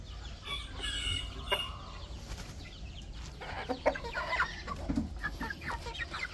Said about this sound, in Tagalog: Yan yung lagay ng manok natin.